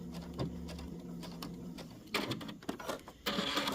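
A sewing machine back stitching, heard as short bursts of rapid mechanical whirring and clatter. These are broken by brief pauses and end in a louder, steadier run, close by and without voices.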